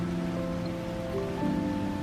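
Steady rain falls outdoors among trees on a warm day, a soft continuous patter that runs evenly throughout with no speech over it.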